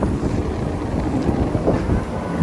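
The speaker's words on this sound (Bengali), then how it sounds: "এটা হচ্ছে বাসাইলটন জেটির টয় ট্রেন" The small toy train on Busselton Jetty in Western Australia runs along the long jetty, a steady low rumble mixed with outdoor wind buffeting the microphone.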